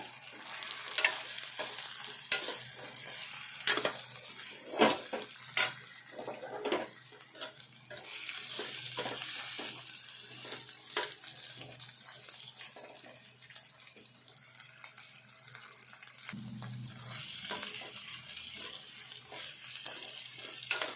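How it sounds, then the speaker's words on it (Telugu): Drumstick pieces fry in a pan for a Telangana-style curry, a soft continuous sizzle broken by frequent scraping stirs of a spoon, close and fairly quiet with no talking. "ఇప్పుడు కడు చేసుకున్న మునక్కాయలు వేసుకోవాలి ఇవి కూడా వేగాలి"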